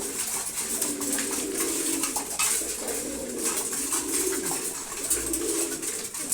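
Pigeons coo continuously in a loft while eating fresh feed, soft overlapping rolling calls from several birds close by, over a steady background murmur.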